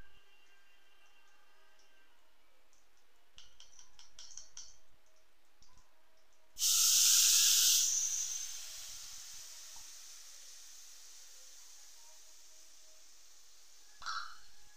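Spice paste hits a hot pan already holding whole garam masala, bay leaves and dried red chillies for doi phool kaliya, giving a sudden loud sizzle that fades to a long, soft hiss. Faint clicks come before it and no one speaks.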